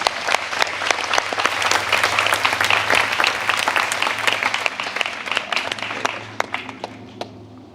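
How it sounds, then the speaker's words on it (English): A large audience at a question-and-answer gathering on meditation with the Dalai Lama claps warmly. The dense, even applause is loud and sustained over a low hum, then tapers off near the end. "Round of applause, please."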